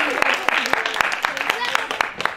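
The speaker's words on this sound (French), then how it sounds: "Bravo, on peut les applaudir" Applause for contestants at a parish bistro karaoke evening, a small audience clapping in a regular beat of distinct, evenly spaced claps under continuing chatter and voices.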